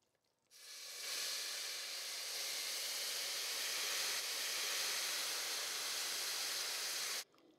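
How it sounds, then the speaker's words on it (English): Hot syrup pours into a pot of semolina halva made with olive oil, bursting into a loud, steady steam hiss that runs for about seven seconds and cuts off abruptly, with no talking. "We're ready to pour in our syrup."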